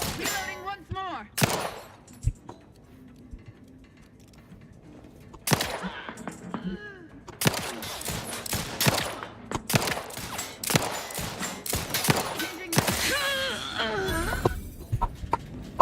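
Gunshots in The Outer Worlds 2, sharp loud cracks fired in irregular clusters, some single and some in quick bursts, with ringing tails and game effects between them.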